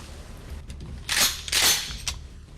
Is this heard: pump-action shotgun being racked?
yes